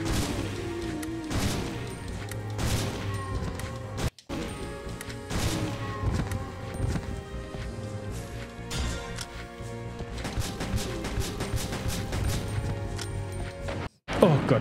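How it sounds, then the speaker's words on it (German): Rocket launcher fire and explosions in the video game Resident Evil Survivor 2, a dense, continuous barrage of blasts, crashes and booms filling the clip with brief dropouts, loud and close. "ich habe den Raketenwerfer benutzt."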